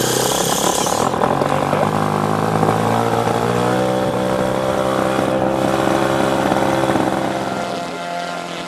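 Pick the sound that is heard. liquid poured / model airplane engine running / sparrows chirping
model airplane engine running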